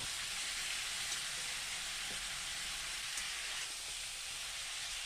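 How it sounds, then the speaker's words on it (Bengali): Chicken pieces fry lightly in hot oil, reused from an earlier frying batch, making a steady, even hiss like light rain that runs unbroken throughout, with no speech over it. "চিকেন দিয়ে চিকেনটাকে একটু হালকা করে আমি ভেজে নেব"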